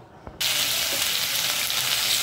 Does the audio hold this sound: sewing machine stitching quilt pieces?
no